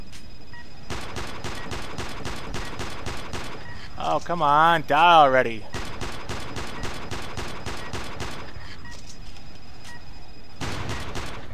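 Rapid gunfire from the Iron Storm video game, with dense bursts of repeated shots running through most of the clip, briefly breaking off as a man groans and complains, then resuming loud and close.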